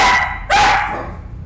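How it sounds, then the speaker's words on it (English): A dog barks on a street, two sharp close barks with a short gap between them, fairly loud and with no talk over them. "the dog's been chatting on the street today"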